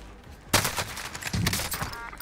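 A video game firefight: a sudden loud burst of gunshots breaks in, followed by a string of rapid, uneven shots close up.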